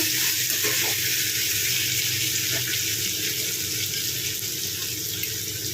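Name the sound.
cut eggplant pieces added to tomatoes in pan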